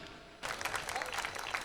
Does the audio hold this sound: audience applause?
yes